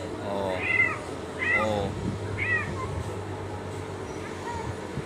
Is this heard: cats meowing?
yes